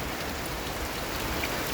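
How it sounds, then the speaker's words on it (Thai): Heavy rain falling on rocks, glass and a road, a steady dense hiss of drops without pause, moderately faint and even. "ฝนตกบนกระจก"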